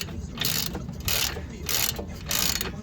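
A socket wrench on a long socket ratchets against an anti-roll bar nut on a Nissan Qashqai, four rapid clicking bursts in an even back-and-forth rhythm, close and clear over a low background hum.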